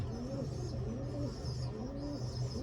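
Pigeons coo in repeated soft, throaty phrases at close range, a steady rolling rhythm over a constant background hum, with no talking.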